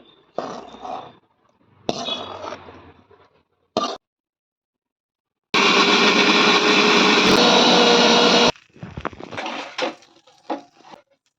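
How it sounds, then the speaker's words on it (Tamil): A kitchen mixer grinder whirs loudly for about three seconds as it grinds sautéed, cooled onion and tomato in its jar for a peas kurma, with clattering handling sounds and a few knocks before and after. "மிக்சியில் போட்டு அரைக்கணும் ஜாரில் சேர்த்து கலக்கும்"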